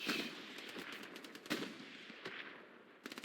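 PPSh submachine gun fire in a World War II video game match: several short, sharp bursts of rapid automatic shots at moderate distance, with a quick final rattle near the end.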